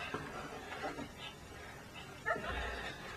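Small dog in a home near a crate-style carrier, letting out a few short excited yips and faint whimpers over low room noise, with quiet talk around it.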